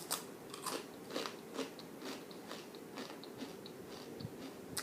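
Whole grain Mary's Gone Crackers crackers bitten and chewed up close, a series of sharp, dry crunches repeating in an irregular rhythm with no talking.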